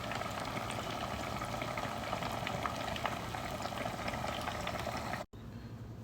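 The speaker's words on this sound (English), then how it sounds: "I'm getting a good fry." Lobster and shrimp mac and cheese balls deep frying in hot grease give a continuous close bubbling sizzle, steady throughout apart from a brief dropout near the end.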